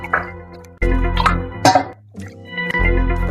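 Water pours from a metal kalash pot in a village home, making a loud gurgling and splashing flow that comes in uneven surges, stops briefly, then starts again.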